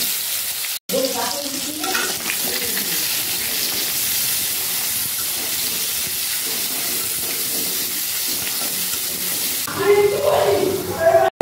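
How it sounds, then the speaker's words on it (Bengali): Boiled potatoes and jackfruit seeds fry in a pan for a vegetarian jackfruit-seed curry, giving a steady, loud sizzle and hiss with occasional stirring scrapes that swell briefly near the end. "এর মধ্যে এবার সেদ্ধ আলুগুলোকে দিয়ে ভেজে নেব। আলুর সাথে সাথে এখানে কাঁঠাল দানাগুলোকে একটু ভেজে নেব।"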